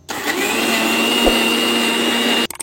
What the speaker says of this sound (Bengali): ডাল তো বাটবো আমি